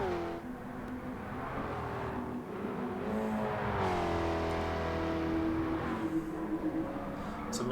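A race car on the Nürburgring Nordschleife in Gran Turismo 7 drones steadily as its engine note climbs and shifts pitch, a continuous whirring roar with tire and wind noise beneath it.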